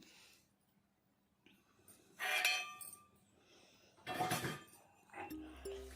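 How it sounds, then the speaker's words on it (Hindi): Metal lid set onto a kadhai cooking pan in a home kitchen, with a few distinct clinking clatters spaced across a quiet background, near and moderately loud. "और ढक्कन लगा दी हूँ कढ़ाई का, और ये पकती रहेगी मेरी सब्ज़ी।"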